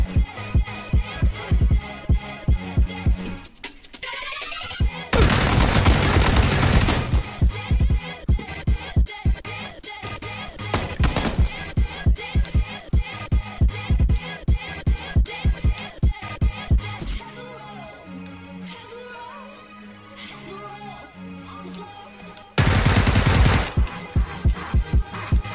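Gunfire in a PUBG-style battle royale game, with repeated sharp shots in spaced rhythmic bursts across a long stretch, broken by two loud noisy surges and by quieter gaps between the exchanges.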